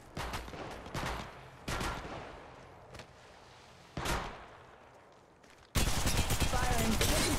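Gunfire in Apex Legends Mobile: several bursts of shots in separate volleys, then a sustained loud barrage near the end, with an in-game voice calling out over the action.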